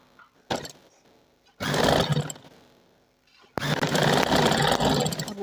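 A sewing machine stitches lace and a folded edge onto fabric in two loud, close runs of rapid stitching, separated by a quieter pause with faint handling sounds.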